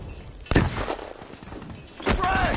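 RPG rocket launcher fired in Black Ops 3 multiplayer gameplay, a loud thumping launch followed by a second blast burst, amid busy game noise and a shouted voice.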